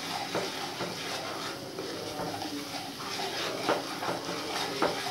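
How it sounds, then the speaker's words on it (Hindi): Spices frying in a pan with oil for a Bengali-style koi fish curry, a steady close sizzle with occasional stirring scrapes, no talking. "हम फिर से थोड़ा सा भून लेंगे।"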